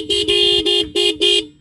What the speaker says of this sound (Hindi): अब मैं इसके आपके हॉर्न के साउंड सुनाता हूँ।